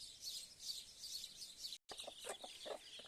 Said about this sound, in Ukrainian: Да-да, клуші.